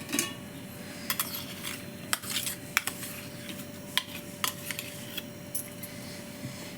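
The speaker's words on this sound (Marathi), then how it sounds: "आता त्याला एक टोपामध्ये मिक्स करू." A metal spoon scrapes and clinks against a pot while rice flour and mango pulp are mixed for mango amboli, the sharp taps irregular and fairly faint over a steady background hum.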